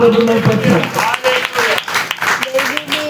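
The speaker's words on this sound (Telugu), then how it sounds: "గట్టిగా చప్పట్లు కొట్టి" Church congregation clapping loudly during a sermon, with bursts of applause mixed under a preacher's continuing voice.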